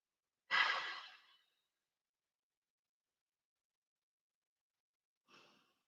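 Slow breaths taken while holding a mobility stretch: one long audible exhale near the start, then quiet, then a softer, shorter breath several seconds later, with no talking.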